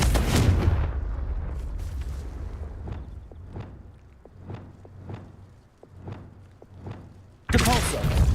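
Confringo explosive spells in Hogwarts Legacy erupt in a heavy opening blast, followed by a rhythmic run of punchy thuds and impacts about every half second, ending in another loud burst.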